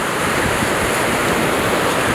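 Sea waves wash steadily onto a sandy beach at Hwajinpo on the East Sea coast in Goseong, Gangwon; a continuous, close, loud rushing surf with no voices.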